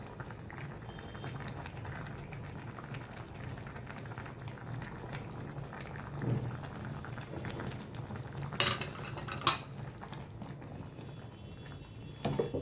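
Chicken korma simmers in a pot as a ground paste of coconut, poppy seed and fried onion goes in and gets stirred. A low, steady bubbling runs throughout, with a few brief spoon scrapes and clinks near the end.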